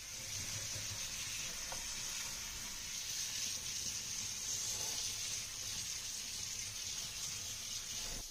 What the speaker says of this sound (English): we just need to rinse the board one more time to get rid of any soap water